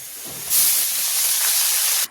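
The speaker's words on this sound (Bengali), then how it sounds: "পেঁয়াজ আর শুকনো লঙ্কা ভালো করে ভেজে নিয়েছি। দিয়ে দেবো কেটে রাখা শাক।" Chopped water spinach drops onto onions and dried red chillies already frying in hot oil, setting off a sudden loud hiss that holds steady for about a second and a half and then cuts off.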